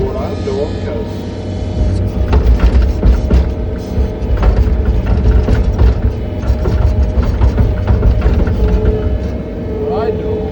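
A skid steer plows snow on a farm in winter, its engine running loud and steady with clanking, scraping mechanical knocks throughout, close up and continuous.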